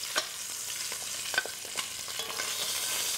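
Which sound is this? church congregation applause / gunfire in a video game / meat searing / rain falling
meat searing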